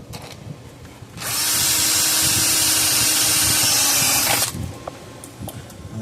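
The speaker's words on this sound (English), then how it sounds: "I'm going to drill a hole" A power drill bores a hole into the casing of an old Gallagher M1500 electric fence charger, a steady loud whine lasting about three seconds, starting abruptly and stopping sharply, with quiet handling noise around it.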